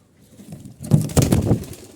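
Soft, low pigeon cooing, a few throaty pulses close by after a quiet start, with light rustling around them.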